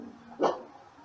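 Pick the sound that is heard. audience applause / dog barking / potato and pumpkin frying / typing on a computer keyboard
dog barking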